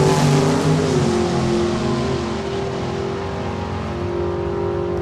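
Side-by-side drag race launch of a dragster and a Sunbeam at Saskatchewan International Raceway, engines roaring loud and sustained from the start, the pitch climbing and holding steady as the cars pull away, with no talk.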